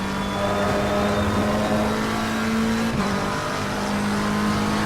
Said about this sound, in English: So I'm driving the McLaren 720